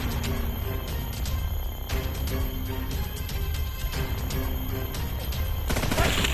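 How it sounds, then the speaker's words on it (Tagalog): Rapid bursts of gunfire crackle loudly and steadily over several seconds in a tense rural setting, with dense overlapping shots and a harsher blast near the end, and no talking. "May putok."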